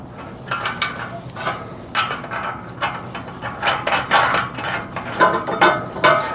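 Rapid ratchet clicks come in repeated bursts as bolts are tightened on an offroad bumper for a Ford F150, close and fairly loud, with metallic knocks between strokes and no talking.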